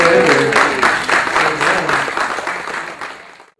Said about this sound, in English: Give me a little round of applause for Philip here.